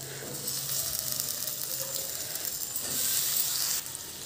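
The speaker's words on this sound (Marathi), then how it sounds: "आता आपण त्याच्यामध्ये बटाटा ॲड करणार आहोत" Potato pieces go into a sizzling onion-tomato masala for batata rassa bhaji, producing a steady close hiss and frying crackle that swells slightly before dropping off near the end.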